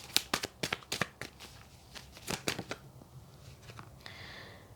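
Tarot cards shuffled by hand, with a quick run of crisp riffling bursts, a pause, then another flurry of papery snaps, close and fairly quiet.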